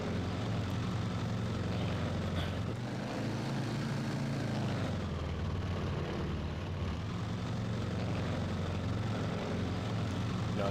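A propeller-driven tail-dragger aircraft engine drones continuously in a flight simulator game, a dense, steady buzz with slight swells in pitch and loudness, no voices present.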